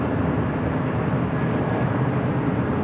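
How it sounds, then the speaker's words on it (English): An Airbus A320 arriving at Los Angeles LAX airport produces a steady, broad jet roar that holds constant and fairly loud throughout, with no voices. "A320 next up for arrival here on the door side."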